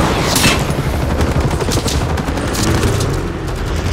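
Dense, continuous gunfire fills a firefight in Call of Duty: Modern Warfare 3, with rapid overlapping shots and bursts at a steady high loudness throughout.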